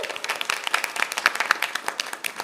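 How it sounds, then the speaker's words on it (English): Scattered clapping from a modest town hall audience for the Office of Workforce Development, individual claps distinct and uneven, fairly light and close rather than a full roar. "I want to have a round of applause for our Office of Workforce Development"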